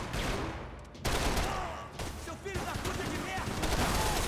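Sustained, dense gunfire from the Max Payne 3 video game fills the clip loudly, with bursts breaking off briefly around one and two seconds before resuming; a voice talks faintly underneath.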